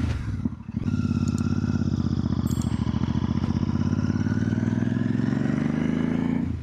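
A motorcycle engine drones loud and close throughout, steady and rumbling with a slight rise in pitch, after a brief lower moment near the start.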